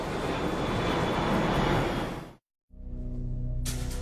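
Garuda Indonesia airliner engine roaring in flight, a loud steady broadband rumble that cuts off abruptly, then resumes as a lower droning hum.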